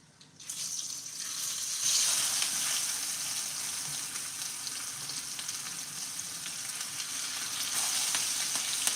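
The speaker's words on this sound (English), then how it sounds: "by pan frying these, again, you really get those, that garlic and that onion really cooks up nicely" Steelhead trout fillets fry in a pan with garlic and onion, giving a steady close sizzle that swells as the fish goes in and holds through, with no talking.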